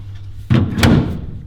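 The crooked, poorly latching door of an abandoned Ford Model A coupe being swung shut, a single close, solid thud with a brief metallic rattle, followed by a fading rumble.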